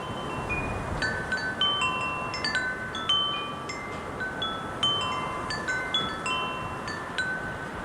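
Wind blowing steadily outdoors, a soft broadband rush with gusty swells throughout, while birds chirp brightly and repeatedly over it.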